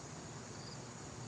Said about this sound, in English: we have cicadas in the background, birds.